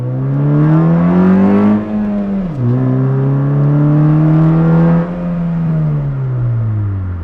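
A Honda Fit GE with a swapped K24 engine revs hard under throttle, a loud close engine note that climbs and dips through several pulls with brief drops between them.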